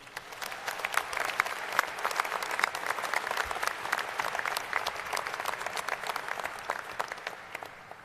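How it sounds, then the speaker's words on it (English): Steady, sustained applause from a large audience at a university medical school commencement ceremony, dense and even in intensity throughout with no talk over it. "Let's give them a round of applause."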